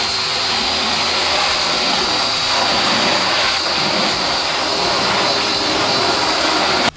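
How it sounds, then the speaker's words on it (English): A loud, steady hiss of water blasts across a screen printing screen to flood-rinse off degreaser, holding constant for about seven seconds before cutting off abruptly. "We're going to go ahead and flood rinse it to get all the soapy residue off"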